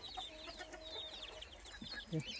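Desi and Chinese hens cluck and chatter on a village poultry farm, a steady scatter of near and mid-distance calls with one louder cluck near the end and no voices.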